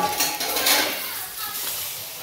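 Raw chicken tipped into a cooking pot of gravy spiced with Agri masala, turmeric, garam masala and chicken masala, giving a brief, close clatter of pot and utensils at an outdoor cook-up in Mahabaleshwar.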